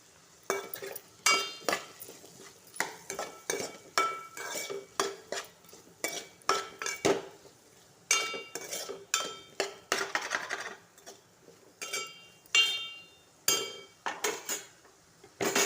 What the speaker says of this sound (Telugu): ఇప్పుడు ఇందులో కొంచెం బాగా కలుపుకోవాలి, అది బాగా కలిసినట్టు